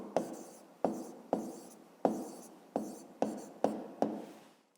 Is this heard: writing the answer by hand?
yes